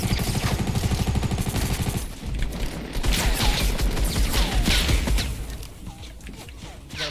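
Rapid, dense gunfire from Fortnite, sustained volleys of shots rattling continuously at close range with crashing impacts, no pauses between bursts.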